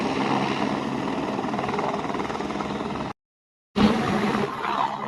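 Helicopter at the Kedarnath helipad lifting off, a steady loud rotor and engine roar that cuts out abruptly for a moment, then resumes just as strongly.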